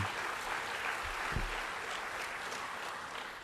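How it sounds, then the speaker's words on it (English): A conference audience at an international financial inclusion policy forum applauds in a soft, distant, steady wash of clapping, quiet and even from start to finish. "Another round of applause to Ashwin Berry and the entire team."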